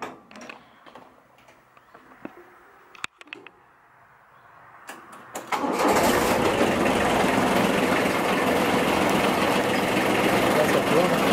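A tractor engine starts up after some quiet handling noises, then runs as a loud steady rumble driving a PTO drive shaft, close by, with brief speech before the start.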